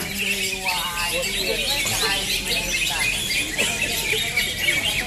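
Busy, overlapping chirps and warbling song of green leafbirds in a bird singing contest, with squeaky calls and a voice speaking over them.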